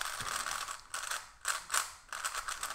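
Rapid plastic clicking and ratcheting from a Cubicle.us speedcube being twisted, in several quick bursts with short pauses between, close and fairly loud.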